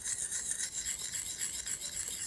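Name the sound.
sharpening hatchet blade with circular strokes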